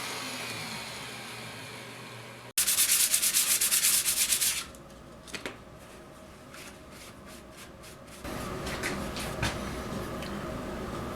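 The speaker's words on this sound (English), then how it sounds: "I used my palm sander to 220 grit on all the pieces" A palm sander smoothing wooden drink coasters at 220 grit runs close and loud in a steady abrasive hiss, then stops, and after a quieter stretch with scattered handling clicks the rough sanding resumes.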